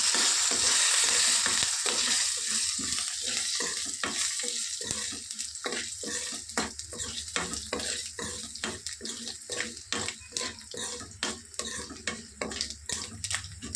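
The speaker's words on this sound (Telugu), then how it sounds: "వేసేసి ఇప్పుడు ఇలా వేయించుకోవాలా" Mustard seeds and other spices frying in hot oil for a tempering, a steady loud sizzle broken by a dense run of rapid crackling pops that grow more regular toward the end, close and without talk.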